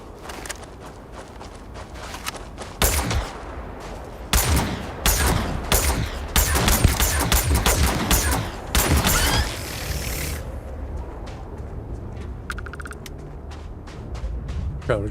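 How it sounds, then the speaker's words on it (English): Bursts of gunfire in the sci-fi game Starfield, Shattered Space expansion, aimed at alien wildlife: loud volleys of shots cluster in the middle, with footsteps and game ambience before and after. "we're just shooting our way through the wildlife here"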